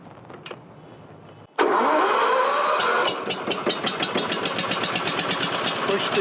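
A CoolVac27 insulation removal vacuum's engine cranks with the key and choke pulled, catching abruptly into a loud steady roar, then settling into a rapid, even idle chug; a few quiet sounds precede the start.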